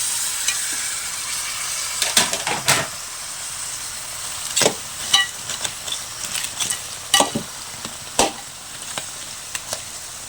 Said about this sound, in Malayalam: ഇനി കഴുകി വെച്ച് ഞണ്ടിട്ട് മിക്സ് ചെയ്യുന്നു